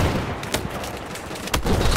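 Mortar fire in the video game Battlefield 4 lands as sharp booming blasts, two distinct loud hits about a second apart over a rumbling battlefield backdrop of scattered gunfire.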